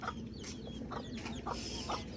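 Chickens in a Bangladeshi household yard, a few soft, faint clucks spaced at short intervals over a steady background noise.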